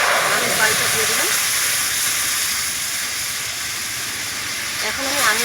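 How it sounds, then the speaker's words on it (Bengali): Raw mango pulp with sugar sizzles in a hot wok, a loud, steady, close hiss lasting the whole stretch, with a faint voice briefly audible at the start and end. "কড়ার মধ্যে আমের পাল্পটা দিয়ে দিলাম"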